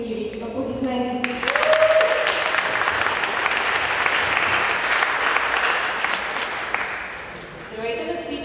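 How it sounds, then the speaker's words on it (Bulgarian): Audience applause fills a full hall at an entrepreneurship club event as a vice-president is introduced, a loud, sustained wash of clapping lasting several seconds before fading, with voices briefly audible at the start and end. "Аплодисменти!"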